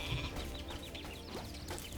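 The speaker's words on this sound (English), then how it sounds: "Kill that fucking sheep." Sheep bleating in the Spyro video game, a few short wavering cries over a steady game soundtrack and background tone.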